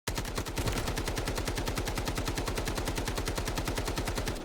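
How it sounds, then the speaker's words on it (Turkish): Rapid automatic gunfire from a weapon in the shooter video game Delta Force, fired at a target 40 m away, comes as an unbroken fast stream of loud, evenly spaced shots lasting the whole stretch. "40 metreye de böyle atıyor silah"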